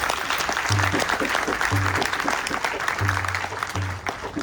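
Audience applause for the officiating pandit at a Ganesh Chaturthi celebration, steady clapping from a crowd throughout, with low droning tones underneath.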